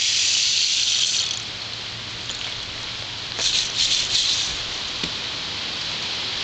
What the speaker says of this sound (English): This is a rain stick.